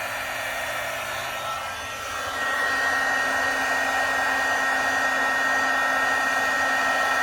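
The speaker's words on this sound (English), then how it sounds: "I'm going to turn on my heat tool," A handheld heat tool for heat embossing blows steadily with a loud, even whoosh and whine, easing briefly then holding a constant roar, with no speech.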